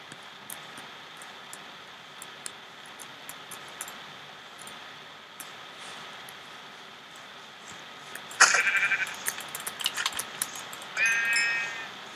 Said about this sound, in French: Et j'ai vu un mouton, je ne peux pas le laisser échapper.